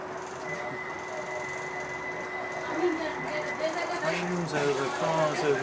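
A Docklands Light Railway train runs between stations at night near Poplar, heard from inside as a steady motor whine and low rumble, with a faint voice partly audible over the running noise.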